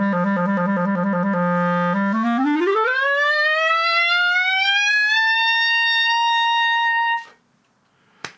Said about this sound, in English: here's how that gliss is going to sound from the D